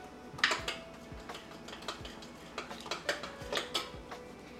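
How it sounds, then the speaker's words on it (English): Instant kulfi mixture with saffron strands being stirred in a bowl: a utensil clinks and taps against the bowl in an irregular series of light knocks, close and fairly quiet, with no one talking. "Give it a good stir."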